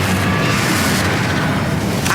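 Confringo explosive spell cast in Hogwarts Legacy, a loud, dense fiery blast that fills the short moment with booming, crackling noise and a sharp burst near the end.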